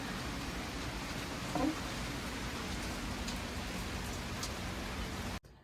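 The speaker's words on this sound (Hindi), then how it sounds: "बाहर बहुत ज़्यादा बारिश हो रही है" Steady, heavy winter rain pours down outdoors in a continuous dense hiss, loud and unbroken, then cuts off abruptly at the end.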